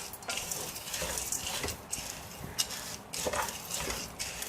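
Sprouted lentils dry-roasting in a kadai while being stirred, a steady dry rattling scrape with periodic sweeps of the spoon, close and continuous with no talk.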